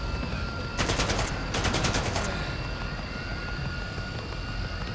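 Two quick bursts of automatic gunfire in the S.T.A.L.K.E.R. 2: Heart of Chornobyl game, rattling over a steady droning hum that continues after the shooting stops.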